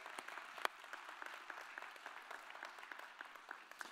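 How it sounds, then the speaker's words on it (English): A church congregation gives steady, soft applause. The many hand claps sound faint and distant throughout, with an occasional sharper clap standing out. "would you give the Lord a hand clap?"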